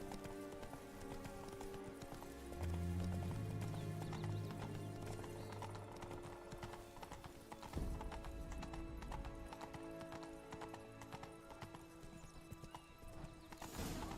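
In The Witcher 3, the horse Roach gallops with a steady drumming of hooves, a whinny rising partway through, under a soft music bed with some muffled speech in the background.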